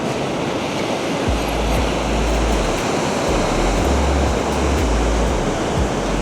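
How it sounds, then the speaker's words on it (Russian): Loud ocean surf on a beach in Crete roars continuously, with heavy waves crashing and rolling in a dense, unbroken wash of noise, partly buffeted by wind. "Волна, конечно, серьезная."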